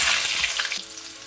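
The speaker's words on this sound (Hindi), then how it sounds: "जब तेल गर्म हो जाए तो उसमें उबले हुए आलू को हम डाल देंगे" Boiled potatoes hit hot mustard oil in a kadhai over a high flame, giving a loud, steady, close sizzle and crackle with no talking.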